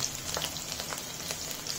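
Garlic cloves sizzle as they go into a pan of hot oil for aloo gobi, a steady close frying crackle with faint soft pops and no voices.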